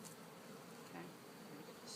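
Honey bees hum softly around an open nucleus hive during an apiary inspection on a farm, a faint continuous buzz with a few closer passes.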